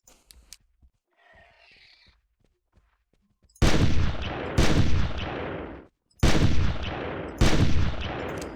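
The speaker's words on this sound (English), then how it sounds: "I thought I'd take some pot shots at the pair" Several loud, close gunshots ring out in the hunting video game Carnivores+, in two separated pairs of booming blasts with decaying tails, after a quiet stretch with faint clicks.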